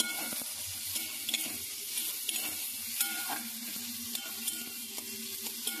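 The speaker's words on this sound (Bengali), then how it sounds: "এখন মশলাটা আমার ভাজা হয়ে গেছে" Spice masala frying in a pan for a thin egg curry, a continuous close sizzle with occasional light stirring scrapes and small pops, no voices.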